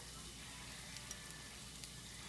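Cumin seeds (jeera) with shahi jeera crackle and sizzle steadily in hot fat, a soft continuous frying hiss with a few faint pops.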